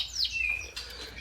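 A canary gives a short, bright chirp with a quick rising and falling whistle, close by and clear, over a low background hum.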